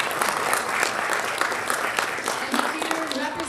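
A conference audience at the 2023 AISES leadership event in Tulsa, Oklahoma gives a round of applause for sponsors, dense sustained clapping filling the hall, with a voice talking over it near the end.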